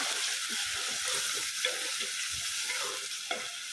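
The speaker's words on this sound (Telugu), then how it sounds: "హై ఫ్లేమ్లోనే మనకి గుజ్జుగా అయ్యేంత వరకు ఫ్రై చేసేసుకున్నామండి" Gongura mutton curry masala frying over a high flame, giving a dense, continuous bright hiss of sizzling with faint soft stirring knocks underneath, close and steady.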